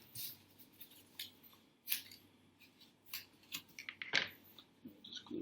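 Scissors snip yellow paper into small pieces, making a series of faint, irregular crisp cuts with brief pauses and a quiet room hum underneath.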